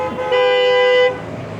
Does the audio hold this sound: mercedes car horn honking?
yes